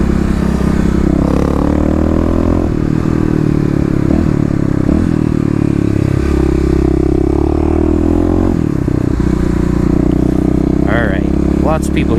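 A fuel-injected Kawasaki KLX351 motorcycle engine drones steadily at close range while riding, with shifts in revs and gear changes, and a person talks over it.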